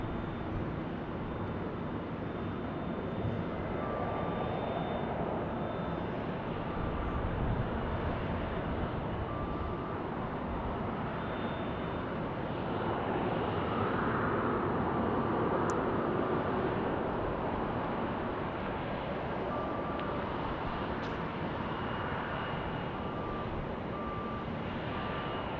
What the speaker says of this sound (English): Got an E175 and an A321neo.